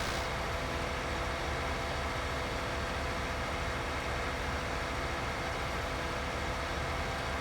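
A John Deere 9570 RT tractor engine in Farming Simulator 19 drones in a steady, unbroken loud hum close by, with no talk.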